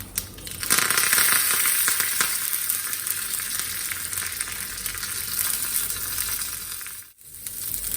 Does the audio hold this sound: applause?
no